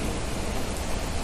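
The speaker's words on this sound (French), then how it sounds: "Et il pleut!" Steady, dense rain in the survival game The Planet Crafter, a loud, even hiss without a break and with no voices.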